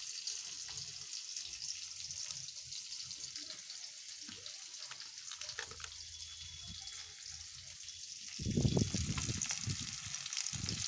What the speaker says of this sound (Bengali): সম্পূর্ণ মশলাটাকে কষিয়ে নিতে হবে ভালো মতন।